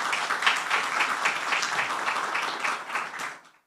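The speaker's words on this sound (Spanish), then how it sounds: "quiero pedir un aplauso muy importante para todos vosotros por estar hoy aquí" An audience at a law and leadership event gives the students a sustained round of applause, steady and fairly loud before tapering off at the end.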